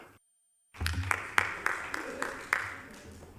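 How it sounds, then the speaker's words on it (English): Scattered, light applause in a council chamber during a members' forum, a few sharp claps standing out in an irregular patter after a brief silence, fairly quiet and thin as only some of the room joins in. "A smattering of applause, well done."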